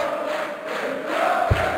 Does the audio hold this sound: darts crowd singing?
yes